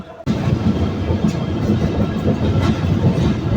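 The Nakshikantha commuter train rolls on rails, heading over the Buriganga rail bridge. A loud, continuous rumble with faint clatter starts abruptly after a brief quiet moment and stays steady throughout, with no voices.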